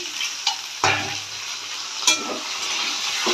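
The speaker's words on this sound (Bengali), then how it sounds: "আলুগুলো একটু ভাজা হয়ে এসছে, এবার টমেটোটা দিয়ে দিলাম" Potatoes fry in a pan under a continuous close sizzle. A tomato goes in with a sudden louder hiss and clatter, and another brief burst of spattering follows as the frying carries on.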